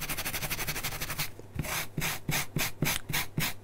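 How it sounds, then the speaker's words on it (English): A stiff scrubbing brush with a bit of wire in the middle is dragged over a diagonal-cut fabric mug mat, giving a steady rasping rub that turns into a string of about seven distinct, evenly spaced strokes. "you'll get your scrubbing brush"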